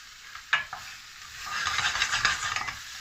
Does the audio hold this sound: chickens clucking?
no